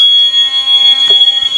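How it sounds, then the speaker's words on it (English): A loud, piercing school fire alarm horn blares continuously at close range during a system test, a steady high-pitched electronic tone with no voices. "That horn is really loud."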